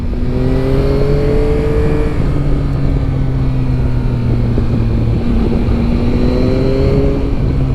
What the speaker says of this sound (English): it has a beautiful quick shift and auto blip that are silky smooth